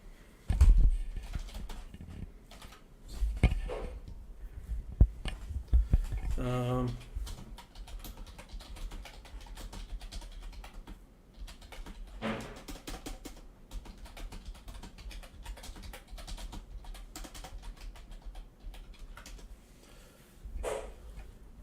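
Fingers type on a computer keyboard, bursts of irregular clicks and taps spread across the stretch, fairly close, with some faint background sounds between keystrokes.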